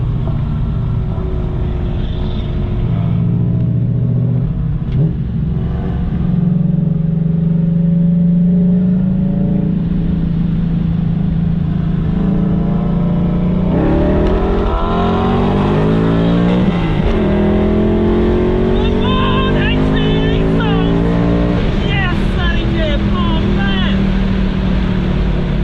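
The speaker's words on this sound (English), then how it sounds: "We're actually racing a Golf R." A tuned V8 BMW M5 roars under hard acceleration in a drag race against a Golf R, the engine note rising steadily and loud, with people talking over it.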